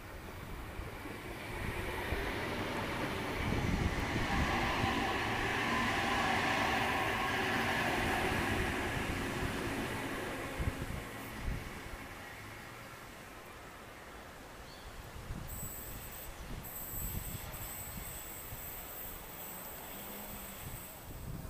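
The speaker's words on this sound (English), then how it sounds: "We've got an Oscar slowly passing platform number 2" A Sydney Trains Oscar set rolls slowly past platform 2 at Denistone, a steady rumble and wheel noise that swells and then fades, with a faint high tone near the end.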